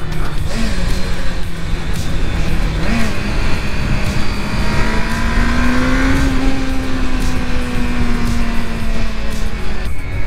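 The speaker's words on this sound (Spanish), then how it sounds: "se nota también que esta moto anda mucho" A motorcycle engine runs continuously while the bike is ridden on the road, with a steady loud drone and rushing wind noise. The pitch rises and falls gently with the throttle.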